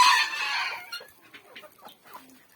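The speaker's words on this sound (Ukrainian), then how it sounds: "Так, птиці в мене снідають." Chickens at feeding time cluck and crow close by, loud at first and then thinning into scattered, softer clucks and rustling.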